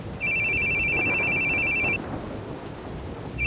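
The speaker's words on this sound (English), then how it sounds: "Your phone's ringing." A phone rings in a visual novel video game: a steady electronic ring tone sounds in one long burst, pauses, then starts again, over a low background hum.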